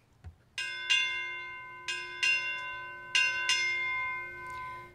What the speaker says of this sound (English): Time orderly, sound six bells.